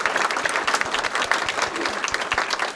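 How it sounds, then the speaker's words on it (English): An audience at a White House forum gives the panelists a round of applause, with dense, lively clapping from a roomful of people that swells and holds steady for a few seconds without talk. "can everyone help me give a round of applause to our panelists?"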